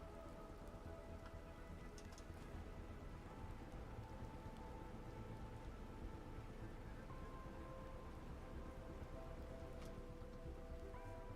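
Steady rainfall in the video game Planet Crafter, a dense, even patter of drops that holds at a constant low level for over ten seconds, with no speech over it.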